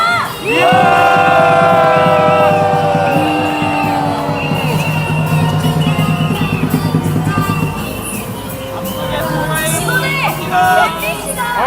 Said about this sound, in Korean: 조선일보를 향해 야유의 함성 질러보면 좋겠습니다